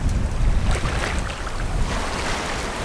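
A sailboat under sail at night off the coast of Spain. Waves wash and rush loudly around the hull, with wind buffeting the microphone throughout. No voices are heard.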